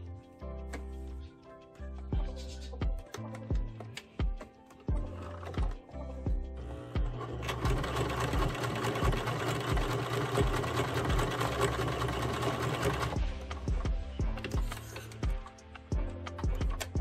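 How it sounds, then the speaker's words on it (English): Domestic sewing machine stitching down a one-inch fabric overlap on a bow tie, short bursts of rapid mechanical whirring and clatter in stops and starts, then a longer continuous run before stopping again. "I'm gonna fold that overlap piece right there, and that's about an inch overlap,"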